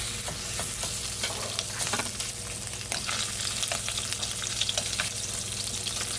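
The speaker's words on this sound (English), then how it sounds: "I'm gonna go ahead throw the shrimp in there" Shrimp sizzles loudly in hot oil with browned garlic for Pad Thai, a dense, continuous crackle close by, broken by frequent stirring scrapes and taps, with no talking.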